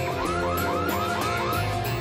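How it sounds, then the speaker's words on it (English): The alarm on a BMW Vision ConnectedDrive car sounds as a fairly faint, evenly paced run of about six rising electronic chirps over a steady background hum. "And activate the alarm."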